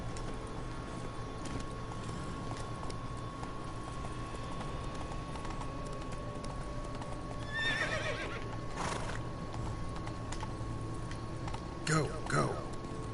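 A horse in the video game The Witcher 3 whinnies twice, near the middle and again near the end, over a steady low background of soft hoof clops and ambient game noise.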